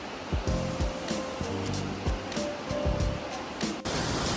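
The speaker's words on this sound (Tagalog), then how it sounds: "And now I have reached to another waterfall, and that's there." A waterfall on Lombok island pours with a steady, rushing roar, broken by intermittent thumps and splashes from nearby.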